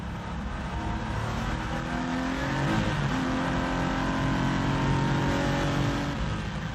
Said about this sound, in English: Hier überholt er Hermann Tilke im BMW M3.